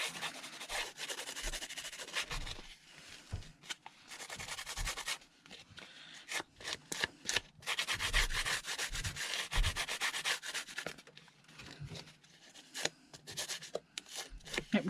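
Grungy, sandy residue is scrubbed off a container lid in quick, close rasping strokes, with bursts of rubbing separated by short pauses.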